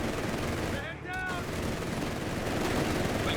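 A .50 cal heavy machine gun hammers away in a Company of Heroes 3 battle, giving steady sustained automatic fire with a brief dip near the middle and a caster talking over it.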